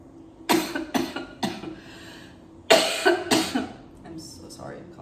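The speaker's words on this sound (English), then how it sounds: "I'm so sorry, I'm coughing into your ear." A run of harsh, close coughs in two bursts, with a brief pause between, then a few quieter breathy sounds.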